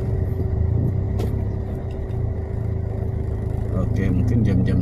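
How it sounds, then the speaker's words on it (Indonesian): A truck holds up slow, congested road traffic; a loud, continuous engine and road rumble with passing-vehicle noise fills the whole stretch, close by. "ada truk jadi agak jalannya agak tersendat nih"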